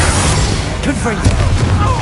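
A Confringo fire spell detonates in the Hogwarts Legacy video game, a dull, close boom within dense layered battle noise and overlapping voices during a fight.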